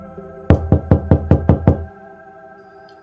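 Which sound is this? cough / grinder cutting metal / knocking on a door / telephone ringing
knocking on a door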